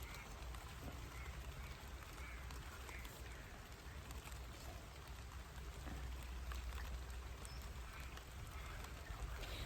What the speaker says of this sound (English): It's still sunny everywhere else and blue sky, and now it's raining.